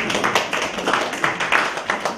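A church congregation claps together during a sermon, a quick, even run of moderately close hand claps with no talking over it.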